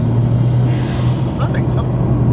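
Toyota Celica GT4 ST205 heard from inside the cabin, a loud steady low engine drone and road rumble filling the car, with people talking over it.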